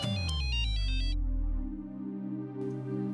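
A landline telephone rings at night with a bright electronic melody that gives way to sustained, droning tones, loud and alone without any talk.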